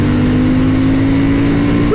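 Honda CB750 Hornet motorcycle engine pulling hard in fourth gear, a loud steady drone that climbs slowly in pitch under heavy wind rush, rising sharply at the very end.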